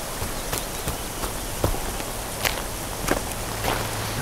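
Lashing rain falls at nightfall in a German audio drama, a steady hiss of drops with footsteps crunching at an even walking pace through it, close and clear with no talking.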